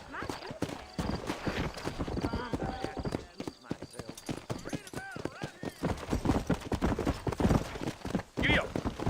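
A horse gallops in the Red Dead Redemption video game, a fast rhythmic clip-clop of hooves running steadily throughout, with a voice talking over it and a brief whinny near the end.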